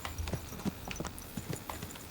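Horse hooves clip-clop at a steady walking rhythm in the medieval video game Kingdom Come: Deliverance 2, distinct thuds repeating about every third of a second, fairly close, with no talking over them.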